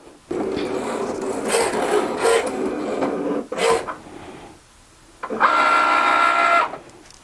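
A Cricut machine with a rotary blade cuts felt, giving a steady, close rasping whir in long runs broken by short pauses, with one brief burst between them.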